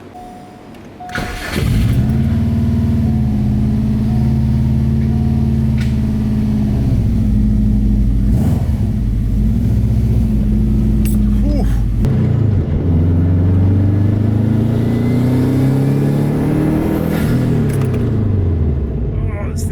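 A modified Subaru engine hums steadily from inside the cabin, then its pitch climbs repeatedly as the car accelerates, loud and continuous throughout.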